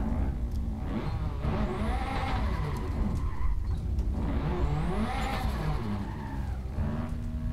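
A car in Assetto Corsa on the Shutoko expressway spins donuts, its engine revving and tyres squealing in repeated rising and falling skids, loud and continuous throughout with no voices.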